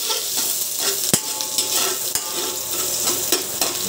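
Garlic being stirred and fried in oil for a sweet and spicy fish sauce, a steady, fairly loud sizzle with the scrape of a utensil and a few sharp knocks against the pan.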